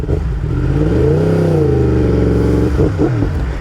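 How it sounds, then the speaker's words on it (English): A Yamaha R1M sport motorcycle engine revs up and settles with a loud, throaty exhaust note, close by, its pitch rising and falling over a few seconds. "this thing sounds so frickin' so sweet. The exhaust is a little loud for my taste"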